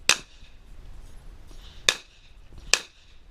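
Three sharp handgun shots at an IDPA defensive pistol match stage, fired one-handed, cracking out at irregular intervals of roughly two seconds, loud and close, with no talk.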